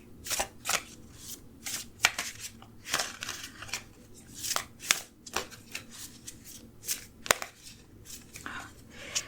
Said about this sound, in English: These cards are almost flying out of my hands